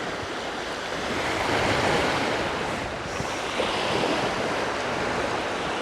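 Ocean waves wash onto a sandy swimming beach in a continuous, loud broadband surge that rises and falls gently, with wind buffeting the microphone and no voices.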